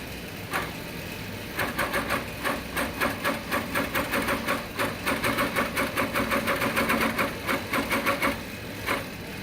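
A Sewing Works Prostitcher pantograph quilting machine runs basting stitches at 1/4 inch, a loud, rapid, even mechanical clatter starting and stopping in bursts near the machine.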